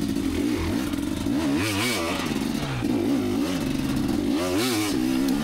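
A 2019 KTM 250XC two-stroke dirt bike is ridden on a trail track, its engine loud and close, revving up and down in rising and falling surges with constant wind rush and no voices.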